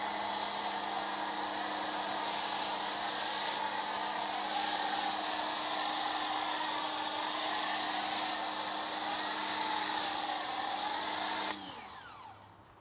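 A Ryobi 1800 psi, 1.2 GPM pressure washer sprays snow foam through a foam cannon with sticky snowball soap, giving a loud, steady hissing spray that runs unbroken, then cuts off abruptly near the end.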